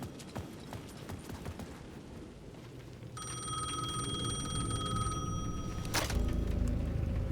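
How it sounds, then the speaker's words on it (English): A payphone rings in a plaza in Alan Wake II, its steady electronic trill starting partway through and repeating over a busy, clattering background, loud and close. "The payphone at the edge of the plaza was ringing again."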